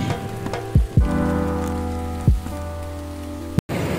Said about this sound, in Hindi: बहुत देर फुटाला लेक पे बैठने के बाद अब बारिश शुरू हो गई है